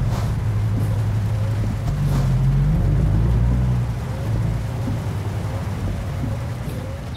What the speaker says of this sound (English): Good God, it's pouring down.